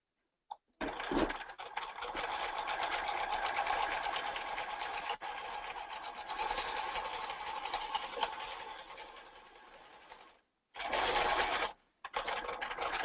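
Serger stitching the edges of a ballet tunic's fabric pieces, a close, steady whirring hum that runs for about ten seconds, stops briefly, then starts again in two shorter bursts.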